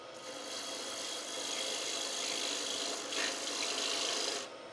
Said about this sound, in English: Using the wing of this gouge, just take all this material away.